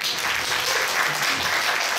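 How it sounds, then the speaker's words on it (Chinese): Audience applause at a wild-boar roast fundraising dinner, steady crowd clapping that is moderately loud and continuous through the short stretch. "大家再给他一个掌声好不好？"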